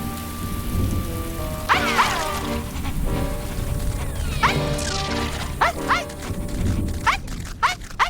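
Steady, heavy rain patters across a surface while rolls of thunder rumble in the distance.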